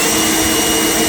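An EGO LBX1000 battery leaf blower runs on turbo, a loud, dense, steady rushing roar very close to the microphone with no break.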